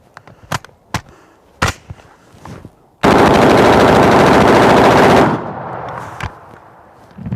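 Automatic rifle fire from an M16 or AK whose barrel is overheating and cooking off: a few scattered single shots, then a loud, continuous two-second burst that cuts off sharply, followed by one more lone report.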